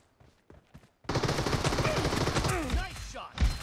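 Rapid bursts of automatic gunfire in a PUBG Mobile match start abruptly after a quiet second and continue loud and dense, with whizzing ricochet-like sweeps near the end.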